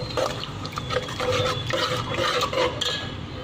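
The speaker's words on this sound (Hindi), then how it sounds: "अब हम इसमें बगैर छिलके वाली मसूर की दाल ऐड करेंगे जो हमने बॉईल करी थी" Boiled skinless red lentils go into a pan and are stirred while cooking dhaba-style daal chana fry, giving a soft, wet sloshing and squelching close up, steady and fairly quiet with no talking.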